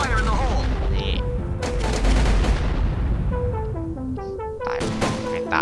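Grenade explosions and gunfire in the shooter video game Global Strike: a dense, loud and continuous barrage of shots and booms, with bright tonal game sounds layered over the top.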